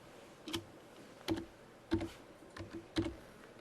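Mouse clicks at a computer during work in Autodesk Inventor drawing software, five faint, close clicks spaced about a second apart in a quiet room, with one paired click near the end.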